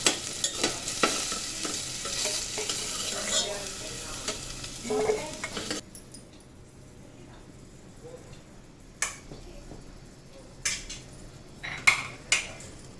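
Potatoes sizzle in oil with a busy hiss for the first half, then the frying fades and sharp metal scrapes and clinks of stirring take over.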